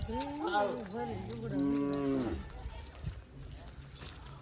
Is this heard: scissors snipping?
no